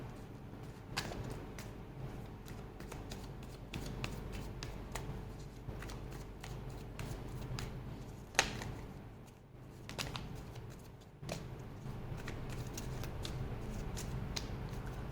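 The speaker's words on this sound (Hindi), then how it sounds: "पहले अच्छे से कार्ड को शफल कर लेते हैं।" Tarot cards being shuffled by hand at close range, a long stretch of steady riffling and rapid flicking with occasional sharper snaps and brief pauses, no voices.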